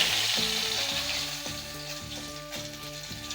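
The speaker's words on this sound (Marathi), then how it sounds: "तेल छान तापलेलं आहे याच्यामध्ये मी एक तमालपत्र तुकडे करून घालणार आहे" Pieces of bay leaf drop into two tablespoons of hot oil and sizzle with a steady frying hiss, close by, with faint clinks from a utensil in the pan.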